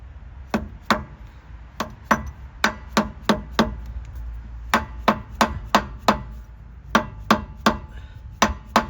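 Repeated sharp metallic taps seating an automatic freewheeling hub onto a Series Land Rover axle, about two dozen close, loud hammer strikes in uneven bursts, with no talk.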